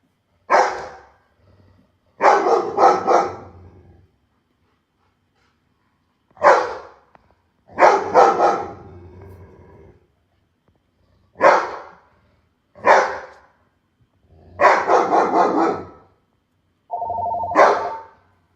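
A dog barks in short, loud bursts, about nine in irregular clusters separated by silent gaps. The barking is close and clear, with no voices.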